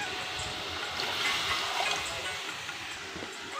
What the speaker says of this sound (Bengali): এখন জল দিয়ে একটু ভালোভাবে জলটা ফুটিয়ে নেব।